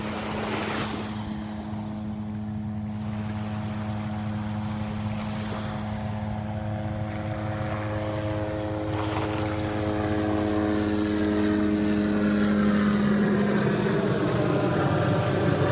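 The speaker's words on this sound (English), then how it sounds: "Oh, I hear the helicopter coming back." A helicopter flies over a beach, its steady droning rotor hum swelling gradually louder as it approaches, set against a constant wash of surf.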